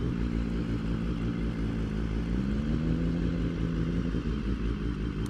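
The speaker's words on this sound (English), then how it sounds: "the Brutale R sounds pretty spicy." A Brutale R motorcycle engine rumbles steadily at a Ducati meet, a continuous low drone with a rising pitch sweep midway as it revs, loud and close for the whole stretch.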